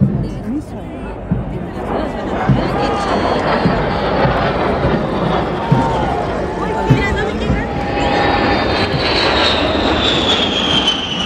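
Loud, continuous aircraft engine roar with rising whine as planes pass close overhead at a Chilean Army military parade. Crowd chatter and voices sit underneath.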